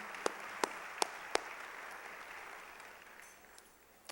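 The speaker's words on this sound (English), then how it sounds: "So let's give Blake a round of applause." Applause from the audience at the Mississippi Economic Council's 65th annual meeting, a few sharp distinct claps over a faint, distant wash of clapping that slowly fades out.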